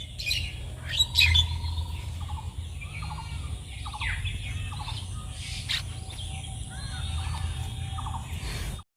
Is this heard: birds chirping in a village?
yes